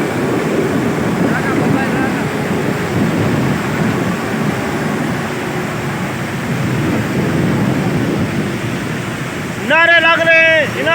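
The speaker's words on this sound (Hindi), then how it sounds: "तो साथ में ये दरिया चल रहा है।" A river runs beside a mountain road, its steady broadband rush continuous and fairly loud throughout, with a voice briefly speaking over it near the end.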